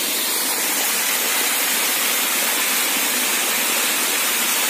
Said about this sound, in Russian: Идет прямой сброс в реку Убин.